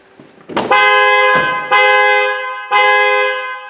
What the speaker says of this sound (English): if I open this back door, it should go into a full alarm event